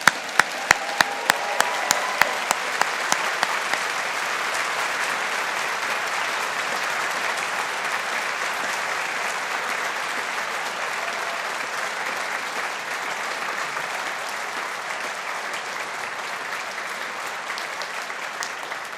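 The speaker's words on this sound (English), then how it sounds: "let's give this class of 2022 a big round of applause" A graduation ceremony audience at a university science faculty breaks into loud, sustained applause, opening with a few sharp distinct claps nearby before settling into a steady, dense wash of many hands clapping that continues throughout.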